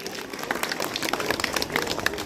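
Audience at a school annual day and result declaration applauds a student's result, a brief patter of scattered clapping at moderate volume, with some crowd murmur underneath.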